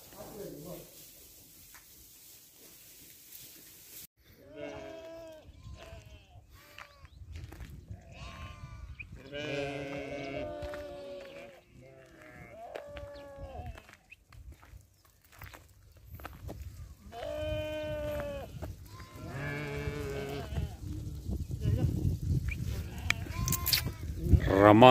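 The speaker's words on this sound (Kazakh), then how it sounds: "Ол жақта чоң боз қойлар" Romanov sheep bleat repeatedly from near and farther off, in scattered bursts over a quiet farm background with some shuffling, while a voice speaks at times.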